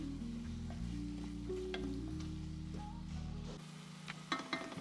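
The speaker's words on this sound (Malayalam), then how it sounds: "ടൊമാറ്റോസ് ഇപ്പം നന്നായിട്ട് സോട്ടേ ആയിട്ടുണ്ട്" Chopped tomatoes sautéing in a pan for Ambur biryani make a soft sizzle under a steady low hum, with a few clinks and stirring scrapes near the end.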